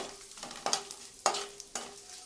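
Cumin seeds fry in a pan for jeera rice with a faint, steady sizzle, broken by three crisp spoon scrapes or taps spaced about half a second apart; no voices.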